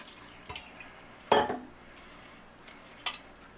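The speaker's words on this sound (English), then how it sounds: "And you just want to mix it around till the dough is soft." Fry bread dough being mixed by hand with water in a bowl, giving a few faint scattered clinks and soft knocks, with one sharper dish-like knock near the middle and another toward the end, over quiet background.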